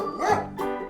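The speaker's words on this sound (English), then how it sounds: "And this is a dog." A single close dog bark, loud and brief, followed by a second shorter yelp.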